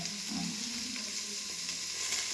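Fresh fenugreek leaves frying in masala for a Kolhapuri-style chicken biryani make a dense, continuous hiss, steady and close, with no pauses and no talking.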